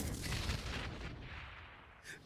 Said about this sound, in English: You got the explosion on that one